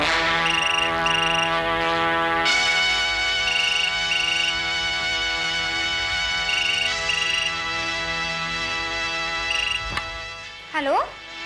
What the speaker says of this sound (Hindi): पापा आपके लिए फोन है।